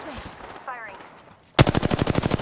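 Havoc rifle in Apex Legends firing one rapid automatic burst of about a dozen sharp, loud shots in quick even rhythm, preceded by quieter game sounds and a brief voice.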